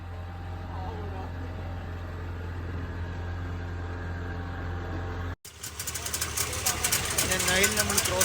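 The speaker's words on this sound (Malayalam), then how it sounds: "ഓക്കെ ഗൈസ്, അങ്ങനെ ബോട്ട് സ്റ്റാർട്ട് ചെയ്തു." A boat engine drones steadily after starting on a Nile crossing near Luxor, Egypt, a low, even hum that abruptly cuts to a louder, rushing, noisier stretch.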